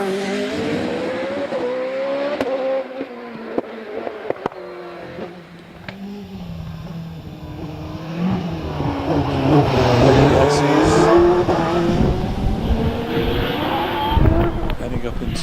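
A hillclimb race car pulls away from the start line and powers up the course at Harewood, its engine note rising through gears under continuous commentary, with a brief tyre squeal near the end.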